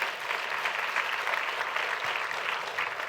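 Steady, even applause from a conference audience fills the whole stretch at moderate volume, a dense wash of many hands clapping with no voices above it.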